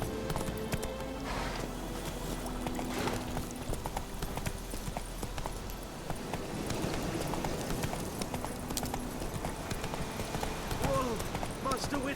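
Geralt's horse Roach trots along in The Witcher 3, with steady rhythmic hoof clip-clops on the ground, close and clear, joined by a brief voice and faint game ambience.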